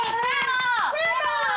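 Two young boys yell and squeal excitedly, their high, sliding shrieks close and loud, overlapping in a burst of childish play.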